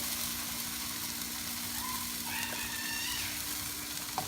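Minced garlic frying in a pan, a steady soft sizzle with a low background hum and a few faint clinks, no speech.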